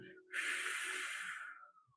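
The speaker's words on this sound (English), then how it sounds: "We're going to breathe out the mouth in like we're breathing through a straw" A long, steady exhale pushed out through pursed lips as if through a straw, a breathy hiss that holds for over a second and then tapers away, close and alone.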